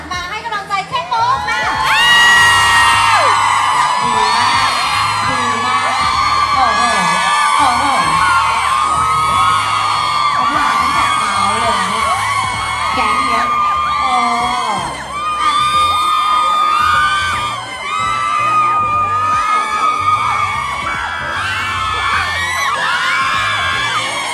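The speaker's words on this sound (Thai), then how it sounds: "ขอเสียงกรี๊ดจากกับ FC" A live fan event crowd screams and cheers loudly and continuously, with shrill whoops and yells layered over a dense, sustained roar.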